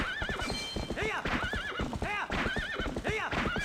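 Epona, the horse in the GameCube game Twilight Princess, whinnies repeatedly in loud, close, wavering neighs over a steady clip-clop of hooves.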